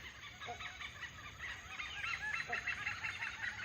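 Oriental pied hornbills foraging on fig trees in a Thai forest canopy give repeated honking, goose-like calls, faint and somewhat distant, rising in frequency across a few seconds over a steady background hiss.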